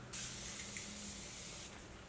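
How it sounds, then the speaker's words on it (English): A Morphe makeup setting spray bottle mists in one steady, close hiss of about one and a half seconds, then stops, with no talking. "I'm gonna use this Morphe setting spray right here,"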